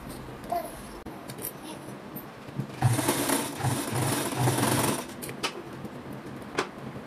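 A sewing machine stitching the hem of an evasê dress, a burst of steady whirring in the middle lasting about two seconds, with softer handling noises before and after.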